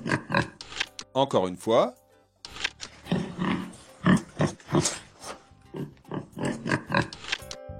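A pig grunts in a guessing game for kids, several rough oinking bursts in quick uneven succession, with a voice speaking briefly before and the grunts heard clearly up close.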